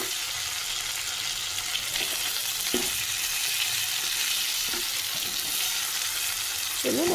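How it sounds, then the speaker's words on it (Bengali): Chicken sizzling in a frying pan, a continuous close hiss with occasional soft clicks and scrapes of stirring, steady in loudness and free of speech. "ভাজা ভাজা করে নিচ্ছি।"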